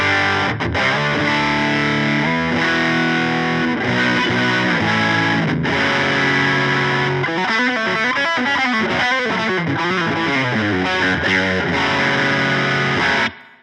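Electric guitar run through an OCD overdrive stacked and blended with other effects pedals, playing thick, distorted chords and busy riffs continuously and loudly for about thirteen seconds before cutting off abruptly.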